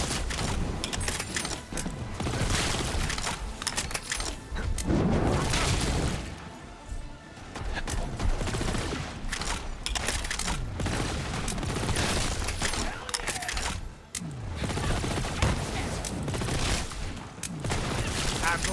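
Sustained gunfire in the shooter Borderlands 3, dense bursts and clattering shots filling the whole stretch with brief lulls, loud and busy, with game voices mixed in.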